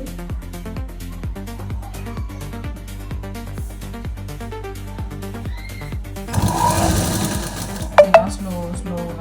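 A sewing machine stitches a small doll's dress with a rapid, regular needle clatter running steadily. A louder whirring burst comes near the end, followed by a couple of sharp clicks. The sound is close, and a voice may be heard faintly under it.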